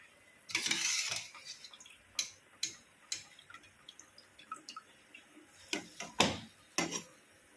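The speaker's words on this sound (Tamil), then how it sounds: "இப்போ வந்து நம்ம அரிசி போட்டுக்கலாம்" A spoon clinks and scrapes in a pan as cooked rice is added and stirred for paneer fried rice, a scattered run of close, sharp taps and knocks with brief scraping bursts between them.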